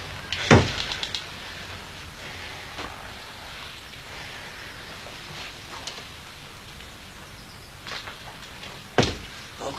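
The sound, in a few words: shop door opening and closing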